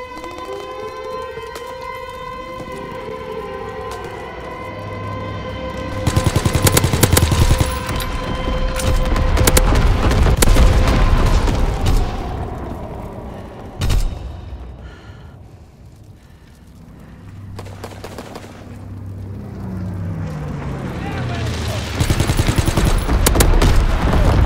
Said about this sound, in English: Low altitude bombing run inbound.